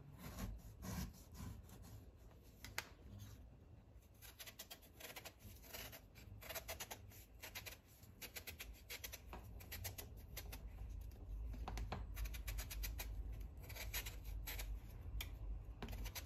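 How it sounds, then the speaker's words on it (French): Mangoes are peeled by hand, giving quiet, repeated scraping and rubbing strokes in an irregular rhythm, close up and faint. "on va éplucher les 4 mangues là"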